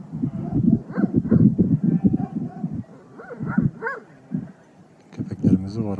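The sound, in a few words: village dogs barking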